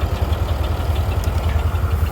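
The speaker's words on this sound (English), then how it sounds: "the old tractor's running pretty good." A vintage Oliver 1755 tractor engine idles steadily with a deep, even low rumble and light mechanical clatter, close and loud throughout, with no voices.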